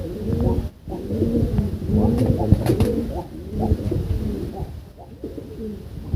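Pigeons coo in low, burbling phrases that overlap and repeat throughout, with soft flutters and shuffling close by.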